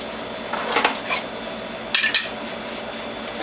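Juicer parts from a WHF juicer (feed tube, cutter and grids) being cleaned, giving a few short clattering knocks of plastic and metal pieces against each other and a sink, close by with quiet pauses between.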